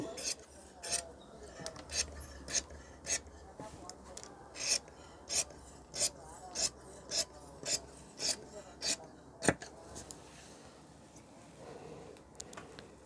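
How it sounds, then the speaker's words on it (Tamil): Tailoring scissors cutting shirt fabric along a marked outline for a 50-inch chest shirt, a regular series of crisp snips and rasping slices close by, about a dozen evenly spaced cuts, with no talking. "இங்கே இந்த ஷேப்பில் என்ன மார்க் பண்ணோமோ அதே ஷேப்பில் கட் பண்ணிடணும்"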